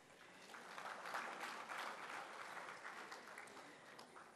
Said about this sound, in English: let's welcome them on stage with a round of applause